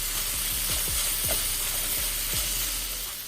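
Red onion is stirred into beef in a hot pan, giving a steady loud sizzle and hiss with faint scraping stirs, close up and without talk.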